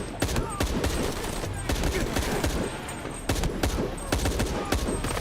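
Gunfire in Shadow of the Tomb Raider comes as rapid, sharp bursts of shots repeating throughout, loud and close over a background of battle noise.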